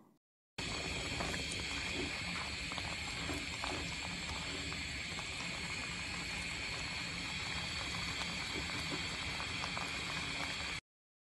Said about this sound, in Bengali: এখন আমি কড়াইটা চুলার মধ্যে বসিয়ে দিব আর কিরাগুলো হাফ সিদ্ধ করে নিব।